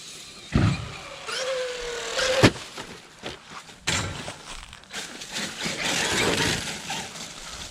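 A Traxxas Maxx RC truck drives hard and jumps outdoors: an electric motor whines up and down, with thuds and clatter from landings over steady background noise.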